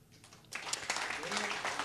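An audience at a Mumbai book launch for Saraswati Civilisation & Early Indians breaks into applause for Indic Academy, a burst of clapping that starts abruptly and continues densely with voices mixed in.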